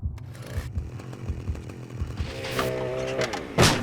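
A chainsaw in the video game Manhunt revs and snarls in bursts, loud and close, with harsh buzzing pulses, a rising whine near the middle and a final sharp roar at the end.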